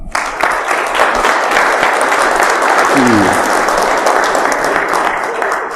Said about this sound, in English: please give a warm round of applause for Danny Akacki